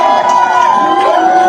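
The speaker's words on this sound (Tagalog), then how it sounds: "Sigawan na yung mga DDS." Supporters at a Philippine political rally shouting and cheering together, a loud, sustained crowd roar that lasts the whole short stretch before cutting off abruptly.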